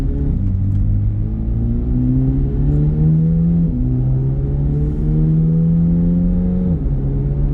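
A 2025 Chevrolet Corvette Z06 3LZ pulls away down a street, its engine note climbing steadily and dropping at two clear upshifts, loud and close throughout with no talking.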